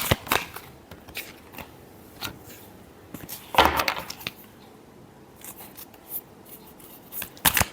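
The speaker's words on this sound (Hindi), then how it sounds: "last shuffle" Playing cards are shuffled in scattered crisp snaps and flicks, close by, with a louder burst of riffling midway and a few sharp clicks near the end, against a quiet background.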